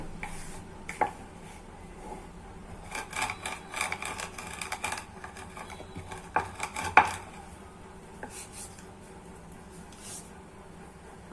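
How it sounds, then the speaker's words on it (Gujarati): Cumin seeds are crushed on a board while making mint thepla, with faint, irregular scraping and soft knocking taps close by. "આપણે પાટલી ઉપર નાખીને વાટી લેશું એટલે એકદમ સરસ આપણે જીરાનો સ્વાદ આવે"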